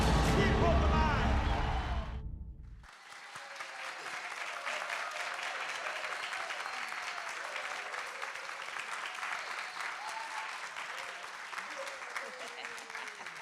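An audience at a morning National Rainbow Push Coalition gathering breaks into sustained applause, a dense steady clapping that carries on for over ten seconds after a loud voice cuts off at the start.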